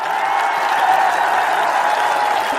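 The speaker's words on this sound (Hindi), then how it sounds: "इतनी कमजोर ताली से काम नहीं चलेगा।" Crowd applause at a large Lok Sabha election rally in Rajasthan, a steady dense wash of clapping sustained throughout without pause, fairly loud and alone.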